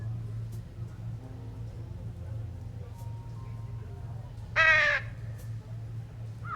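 A single burst of crow caws rings out in the Trüberbrook video game, loud and close against a steady low ambient hum, with quiet background sounds around it.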